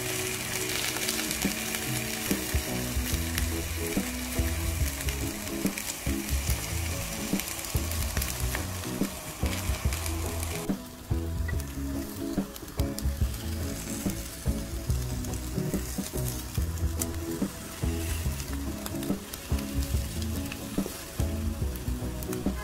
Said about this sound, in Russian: выкладываю на сковородку кабачки и обжариваю их буквально по 2 минутки с каждой стороны